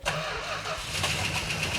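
A Dodge Super Bee with the Six Pack engine cranks over and catches after sitting for 15 years. It settles into a loud, steady running rumble close by, with no talk over it.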